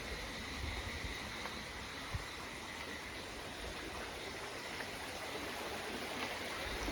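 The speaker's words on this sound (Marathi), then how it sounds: "बॅकग्राऊंडला मित्रांनो तुम्हाला आवाज येत असेल ना पाण्याचा खळखळाट" Continuous low rushing and gurgling of a flowing stream, fairly faint and steady, with no voices over it.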